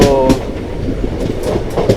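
The 22158 Chennai Egmore–Mumbai CSMT Superfast Express runs with a loud, close rumble and rhythmic clickety-clack of wheels over rail joints, heard from on board.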